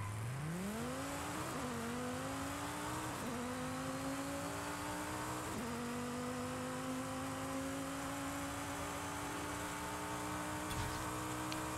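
A 1,136 hp Dodge Viper ACR launches down a drag strip in Forza Horizon 5, its engine climbing through rising revs with clear gear-shift dips, then a long loud steady pull at high pitch.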